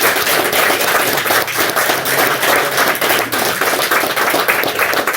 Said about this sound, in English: Thank you, Mr. Ozdoba. Round of applause.